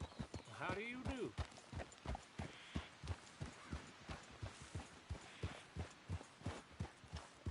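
Horse hooves clip-clopping in Red Dead Redemption 2, a steady, rhythmic trot of hoofbeats under a voice speaking at the start, the clopping carrying on alone afterward.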